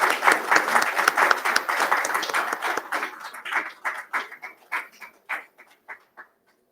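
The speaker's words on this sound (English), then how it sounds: "Can we please give a big round of applause to the co-chairs?" A conference audience gives a round of applause to the co-chairs at a valedictory and awards ceremony: dense clapping that thins out into a few scattered, separate claps before stopping.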